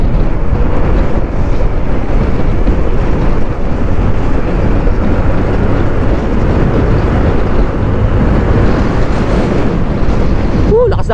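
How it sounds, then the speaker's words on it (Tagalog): Heavy wind buffets the microphone while a motorcycle is ridden along a road, a loud constant roar with low engine rumble beneath and a short high squeak near the end. "Lakas ng hangin."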